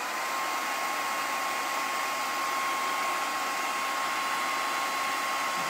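A hair dryer blows steadily on a flour sack towel, a constant loud whooshing hum with a fixed whine, running unbroken and alone throughout.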